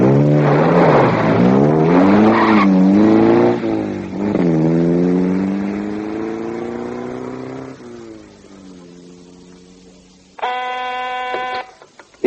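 Staged as a radio drama effect, a car engine revs and pulls away, the tone rising and falling through gear changes before fading into the distance, followed by a short buzzing electronic tone.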